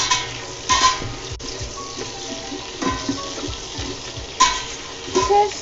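Spices and garlic paste sizzle and fry in a pan, with intermittent stirring scrapes and clinks rising over a steady low crackle, close by and moderately quiet.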